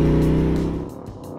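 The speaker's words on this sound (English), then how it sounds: "I'd head out on an RSD performance bagger, a big cruising machine" A Roland Sands Design Harley-Davidson performance bagger, a big cruising motorcycle, rumbles loud and close with a deep, throbbing V-twin engine note that eases off toward the end of a brief pass.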